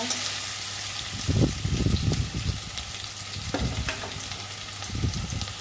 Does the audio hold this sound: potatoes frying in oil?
yes